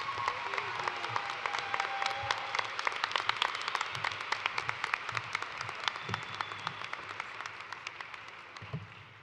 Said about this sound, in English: Let's give one more round of applause to all of our baccalaureate graduates